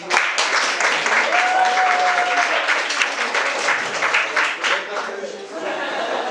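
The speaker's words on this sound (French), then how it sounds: "J'aimerais que toutes les personnes qui viennent pour la deuxième fois applaudissent ceux qui viennent pour la première fois" A live show audience applauds first-time visitors with dense, sustained clapping that fills the whole stretch at close range, and a few voices are mixed in.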